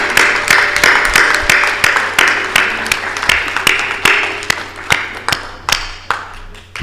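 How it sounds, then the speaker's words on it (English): A small audience at an evening DigiFest awards ceremony claps for content creators and finalists, with sharp, distinct handclaps in a loose, steady rhythm, close and fairly loud. "please, big round of applause to all the content creator and the finalists"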